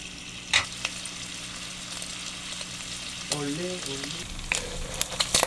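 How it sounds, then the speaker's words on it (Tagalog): Oil sizzles and crackles steadily as pork fries in a pan for Bicol Express, with occasional sharp pops. A voice speaks briefly over the frying. "Antayin natin maprito-prito siya ng konti at magmamantika."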